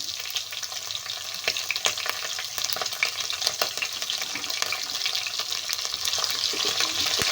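Crushed garlic with curry leaves and green chillies frying in a pan, a steady close sizzle with crackling pops and occasional stirring scrapes, no voices.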